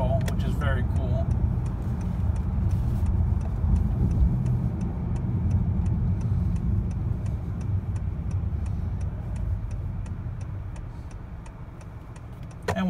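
A 2018 Honda Accord 2.0T builds speed up a highway on-ramp, its engine and road rumble a steady low drone inside the cabin, with a turn signal ticking rhythmically and a person talking over it.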